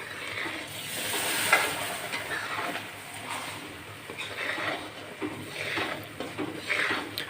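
Urad flour roasting in a pan with milk for adadiya, stirred by hand, giving a soft continuous sizzle and scraping that swells and fades over several seconds with no talk.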